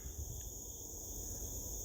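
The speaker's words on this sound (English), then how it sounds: "We've got crickets, and every once in a while we'll get a cicada come in." Continuous high-pitched chirring of crickets, steady and unbroken, with a low rumble of background noise beneath.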